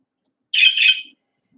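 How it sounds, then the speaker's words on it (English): A pet bird gives a single short burst of bright, high chirping in a quiet room, close and fairly loud, with brief squawky edges and silence around it. "Chirp, chirp."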